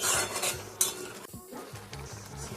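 A spoon stirs cucumber and bitter gourd sukto in a pan, with clinks and scrapes against the metal over a soft, low sizzle, in short close-up bursts.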